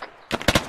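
Enemy gunfire in ARMA 3: after a quiet moment, a quick burst of three or four sharp, fairly distant shots crackles in rapid succession.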